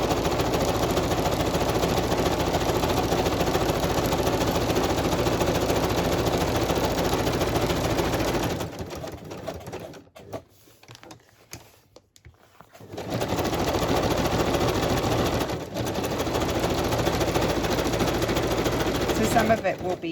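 A sewing machine stitches a boho journal cover in loud, steady runs of rapid mechanical chatter, pausing into near quiet for a few seconds midway before resuming.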